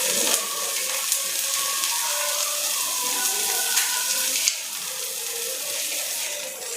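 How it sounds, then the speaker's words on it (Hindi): Water, 200 ml, is poured into a pan of frying onion and tomato for noodles, producing a steady hissing sizzle and bubbling with a sharp splash partway through. "हम पानी ऐड कर रहे हैं इसमें 200 ml"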